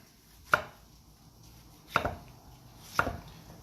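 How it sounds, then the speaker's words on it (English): A knife cuts slices from a tomato on a board, three distinct soft chops spaced about a second apart, close and quiet with no talking. "I'm just gonna cut slices on my tomato."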